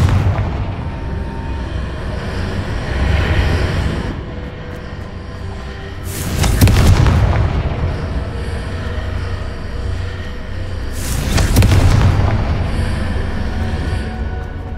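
Two Confringo spell explosions in the video game Hogwarts Legacy, each a sudden loud blast several seconds apart, over a rumbling game ambience.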